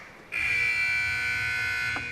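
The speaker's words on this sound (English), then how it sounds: "And there goes the buzzer." A loud, sustained electronic end-of-game buzzer blares for about two seconds at a table tennis match, steady and harsh, against a low background hum.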